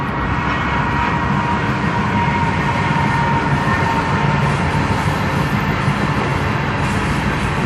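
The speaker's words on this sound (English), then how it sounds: "This train's coming by. Sorry, it's gonna sound its horn a couple more times." A passing train produces a loud, dense, continuous rumble and roar of rolling wagons, steady for the whole stretch with no distinct horn blast standing out.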